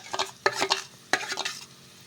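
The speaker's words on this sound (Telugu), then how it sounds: "ఇలా వేసేసుకొని మొత్తం కూడాను బాగా కలిపేసుకుందాము." Broad bean and egg paste is stirred in a pan of oil, with scraping strokes in short bursts over a soft sizzle, close and fairly quiet, with no voices.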